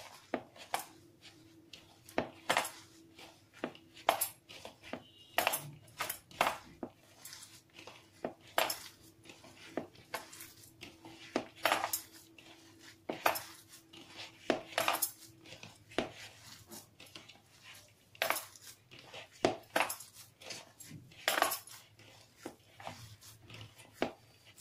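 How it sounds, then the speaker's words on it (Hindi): Gobhi paratha filling of grated cauliflower, green chilli and coriander mixed by hand in a bowl, giving soft irregular clinks, taps and rustles that come and go close by without any talk. "अब इसको हम सबको अच्छे तरह से हाथ से"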